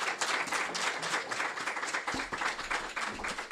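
An evening gathering audience breaks into steady applause, many hands clapping densely throughout at moderate distance, with no talk over it.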